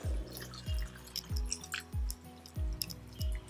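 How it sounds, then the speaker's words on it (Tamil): Water poured into instant rava dosa batter, heard as a series of about six close, regular glugging drips and splashes, each a short low plop about every half second, with no talk. "தண்ணி ஊற்றிடுறேன்."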